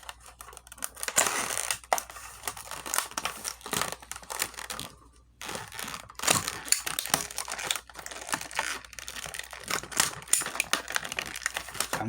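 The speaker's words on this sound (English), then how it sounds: "Let's go ahead and relieve it from its container." Plastic packaging crinkles and tears in irregular bursts as a Coleman propane bottle scale is unpacked, close-up and moderately quiet, with a short pause midway.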